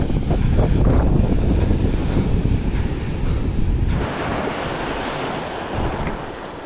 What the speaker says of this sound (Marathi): इकडे लाटं बघा कसली येत आहेत सुसाटमध्ये